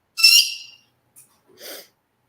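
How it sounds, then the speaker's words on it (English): A pet bird gives a sharp, loud squeak, then a tiny chirp and a brief raspy squawk a moment later, each short and close with silence between. "I don't know what's worse, that bird squeaking or that aquarium running."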